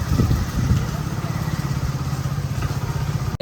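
A motorcycle engine idles up close with an uneven, throbbing putter, and it cuts off abruptly at the very end.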